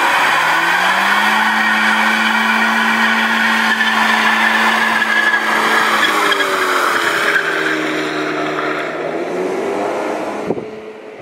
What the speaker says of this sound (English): These burnouts was long.